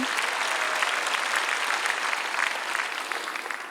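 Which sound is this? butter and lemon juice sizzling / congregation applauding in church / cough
congregation applauding in church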